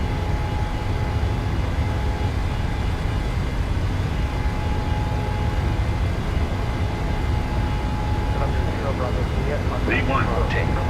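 Steady, loud jet engine roar from a PMDG 737-800 at takeoff power in Microsoft Flight Simulator, a constant rumble with a faint tonal whine and brief voices near the end.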